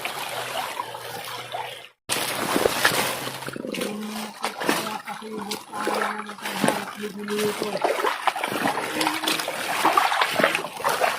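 Water splashes and trickles steadily as feet wade through a mountain creek, with broadband sloshing continuing near and fairly loud after a brief pause at the start.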